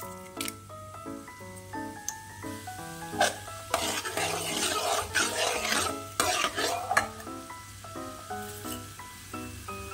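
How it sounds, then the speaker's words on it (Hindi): Dry red chillies and cumin seeds sizzle in hot oil for chana masala, a crackling spatter that swells in bursts while a spoon stirs and scrapes the pan, with musical tones over a low hum. "तेल गर्म हो चुका है, अब इसमें सूखी लाल मिर्च डालेंगे 3 से 4। थोड़ा सा जीरा डालेंगे।"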